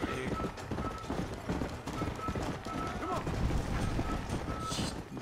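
Horse hooves gallop in Red Dead Redemption, a rapid steady clip-clop running throughout under players talking excitedly, with faint game mechanisms in the background.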